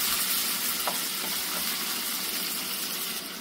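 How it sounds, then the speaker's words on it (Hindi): Finely chopped tomatoes fry in a pan for dal tadka, giving a steady close hiss of sizzling with a few faint stirring touches and no voices. "अब इसे हम चला लेंगे और टमाटर को बनने तक पका लेंगे।"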